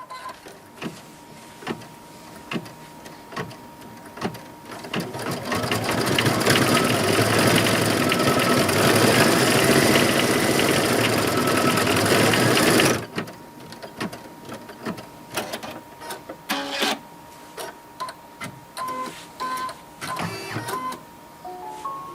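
Cutting machine (Cameo, Cricut Explore or Maker) working on fabric: a loud steady motor whir for several seconds, then stops, followed by a run of short mechanical bursts and clicks.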